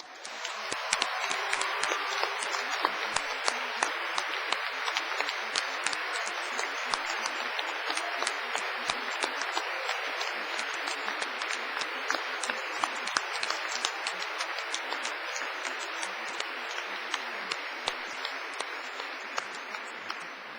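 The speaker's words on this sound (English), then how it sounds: "giving them an enthusiastic round of applause and a big wave" Graduates at a Cardiff University law and music graduation ceremony in 2008 give an enthusiastic, sustained round of applause for family and friends, a large hall full of dense clapping carrying on steadily for about twenty seconds.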